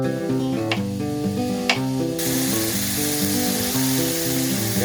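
Onions sizzle in a frying pan, the hiss starting partway through and continuing steadily beneath prominent background music.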